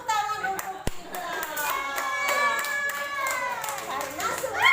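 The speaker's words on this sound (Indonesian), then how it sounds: "tepuk tangan untuk kita" At a children's worship gathering, kids clap their hands in scattered, quick bursts while many young voices chatter and call out loudly over them.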